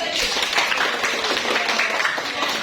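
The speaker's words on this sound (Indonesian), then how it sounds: "Kita beri tepuk tangan untuk" Applause from a classroom group during a teacher-training lesson, a steady patter of many hands clapping at moderate loudness for under three seconds, with no voices over it.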